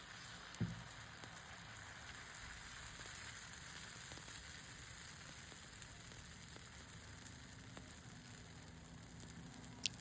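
Dosa batter sizzling steadily on a hot pan, a soft continuous frying hiss with faint crackle, heard alone at low level with a couple of small clicks.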